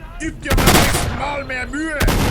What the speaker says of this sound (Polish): Ten w ogóle shotgun zabija na jeden strzała.